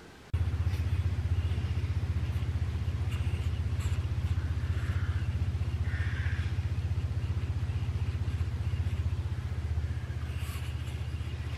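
A fuel pump running on a Massey Ferguson 40 combine, a steady continuous low electric hum and rumble that holds evenly throughout, close, with no talking.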